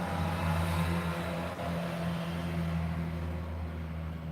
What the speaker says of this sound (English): Sorry about the street noise